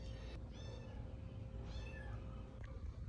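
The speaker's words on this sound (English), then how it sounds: "The meows per second or meows per minute greatly increase for the distance I am away from him." A small kitten meows repeatedly, thin and high-pitched, several calls spaced over a few seconds at moderate distance against a steady low outdoor background hum.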